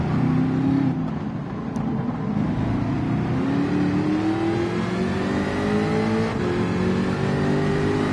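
A Mustang Gr.4 race car at Spa-Francorchamps in Gran Turismo drones loudly from onboard, its engine pitch climbing steadily through a gear with a shift partway through, steady and without voices.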